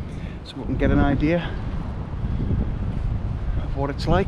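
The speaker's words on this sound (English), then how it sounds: "It is windy. But I want it to be more windy" Gusty wind buffets the microphone with a low rumble throughout, while someone talks over it.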